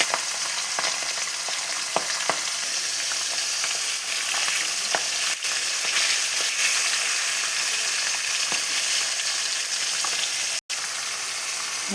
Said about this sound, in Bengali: পাবদা মাছ ভাজা বসিয়ে দিয়েছি